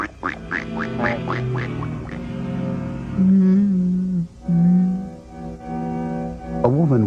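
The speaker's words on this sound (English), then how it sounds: "Quack." A duck quacks in a rapid run of nasal calls, followed by longer drawn-out honking tones and a final burst, loud and close, with no talking.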